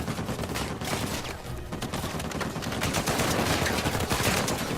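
Gunfire rattles in the video game Uncharted 4, a dense continuous barrage of shots and bursts at steady loudness with no speech.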